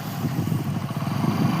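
A motorcycle engine runs close by in a rapid, steady low throb during a beginner's riding lesson.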